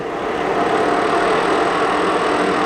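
A Southwestern Industries Proto-Trak 2-axis CNC vertical mill with an R8 spindle runs its head at about 1,600 RPM, giving a steady, close whirring hum with no talk.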